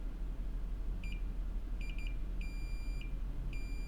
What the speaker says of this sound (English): Oh, there we go, we got a beep.